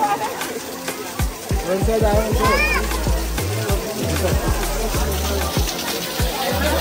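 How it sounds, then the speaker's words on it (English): Waterfall water splashing and pouring during monsoon rains at Kanheri Caves in Sanjay Gandhi National Park, Mumbai, a steady close wash of water with excited voices and speech over it throughout. "that was a waterfall experience"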